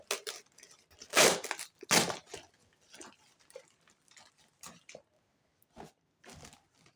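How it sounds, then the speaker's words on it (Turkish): Loud crinkling and tearing of plastic parcel packaging in several bursts, then quieter rustles and crackles with pauses between. "Şöyle ambalajından yırtarak kurtarmaya çalışacağız."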